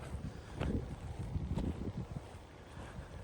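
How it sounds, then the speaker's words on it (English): Wind blowing outdoors on an overcast day, low rumbling gusts buffeting the microphone in uneven surges, close and fairly quiet, with no talk. "The wind feels good."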